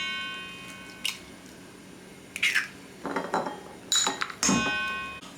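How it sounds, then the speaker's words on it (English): Five eggs cracked one after another into a mixing bowl for a carrot cake, heard as several separate close, sharp taps and clicks on the bowl's rim with short pauses between. "Crack all the 5 eggs."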